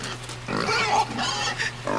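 Piglets in the video game Inside oink and grunt in a short burst of snorting squeals, close and fairly loud over a low steady hum, with no talking.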